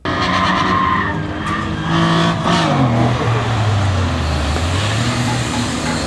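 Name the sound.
car drifting on a track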